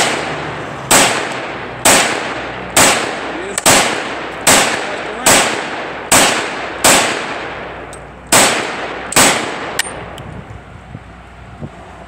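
A Sig Sauer P226 chambered in .357 SIG fires about ten sharp, loud shots at a steady, roughly one-second pace outdoors, each with a short echo, followed by quieter handling sounds.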